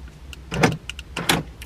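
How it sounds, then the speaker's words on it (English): Pontiac G8 door locks actuating from a flip key remote: a pair of quick mechanical clunks from the lock motors, repeated in two bursts, close by with a faint hum in the background and no talking. "Locks the doors, unlock the doors, unlock."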